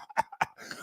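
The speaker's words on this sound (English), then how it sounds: "Oh, I still got the cough" A person gives two quick, harsh coughs close up, one right after the other, followed by a short breathy groan.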